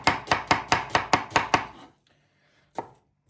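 An onion is chopped finely with a knife on a board: about eight quick, evenly spaced chops, a short pause, then one last chop. Each hit is close, crisp and loud, with no talking.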